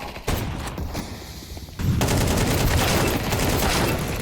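Rapid automatic gunfire in Counter-Strike 2, loud and close, with a brief burst followed by heavier sustained shooting.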